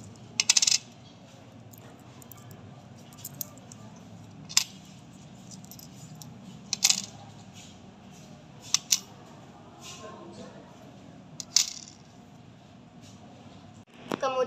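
An Rp500 coin is set down on a digital scale with a few sharp, bright metallic clicks and clinks spread through a quiet room, faint handling noise between them.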